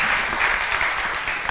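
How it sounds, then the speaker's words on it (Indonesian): Audience applause fills a teaching hall, a dense, steady patter of many hands clapping close by for a brief moment, heard on its own. "Tepuk tangan Milarepa."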